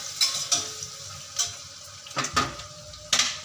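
Onion frying on high flame in a pot for prawn biryani, a soft sizzle beneath intermittent clinks and scrapes of a spoon stirring against the pan, close and moderately quiet.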